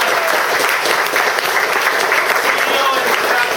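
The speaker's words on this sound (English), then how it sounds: "I want to give a great big round of applause to Jeffrey Birnbaum," Dense, loud applause from a tech meetup audience for a database company's CEO, steady and continuous throughout with some voices mixed in.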